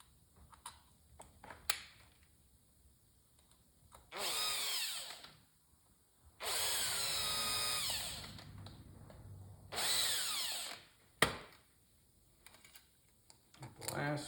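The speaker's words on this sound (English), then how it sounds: "Get your screws back in there" A power driver runs screws back into a 33mm Mikuni carburetor in three distinct whirring bursts separated by quiet handling clicks and light knocks, close and moderately loud.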